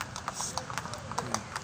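Horse hooves clip-clopping on the path around the lagoon at Wright Park, a quick even series of sharp taps at moderate distance under someone talking.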